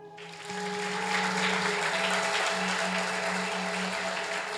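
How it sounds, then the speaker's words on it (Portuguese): A church congregation applauds, a steady dense wash of clapping that swells in after a brief quiet start and holds loud and sustained, with a low tonal hum beneath it. "Aplaude a Ele."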